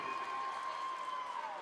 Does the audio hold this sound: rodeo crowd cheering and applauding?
yes